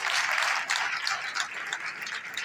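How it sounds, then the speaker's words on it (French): Applause from an audience at a 2021 award ceremony fills the hall as steady, dense clapping that keeps up without a break from start to finish. "Ça peut s'applaudir quand même."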